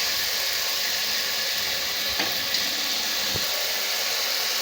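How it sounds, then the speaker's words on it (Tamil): Green field beans (mochai) sautéing in a hot pan, a steady broadband sizzle and hiss held close and even throughout, with a couple of faint clinks of a utensil and no talking. "மொச்சையை போட்டுட்டு நல்லா பரட்டலாங்க. நல்லா கொஞ்சம் வதங்கிட்டுங்க"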